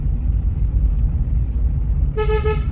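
A car on a hill road rumbles along steadily, then gives one short, bright honk of its horn near the end, close and loud over the engine noise.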